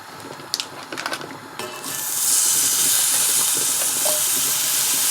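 Butter hits a hot pan for salmon with a loud, steady sizzle that starts after a few soft clinks and scrapes and then keeps hissing close up.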